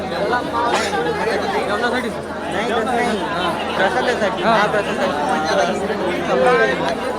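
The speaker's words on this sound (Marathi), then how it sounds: "किती मोठी गर्दी रे आहे फक्त जेवणासाठी" A dense crowd of people chatters at the Shegaon temple while waiting for food, a steady close babble of many overlapping voices with nearby speech on top.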